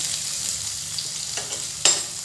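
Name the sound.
chopped onion frying in hot mustard oil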